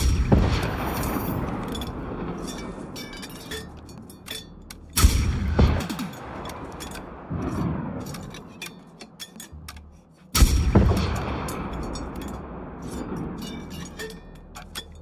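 Heavy artillery bombardment in the video game Generation Zero: loud booming impacts land around 5 and 10 seconds, followed by rolling rumble and scattered crackling shots throughout.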